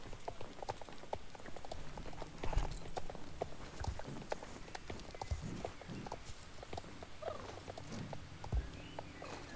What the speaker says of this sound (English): If you hear any like tapping noises, that's just the rain.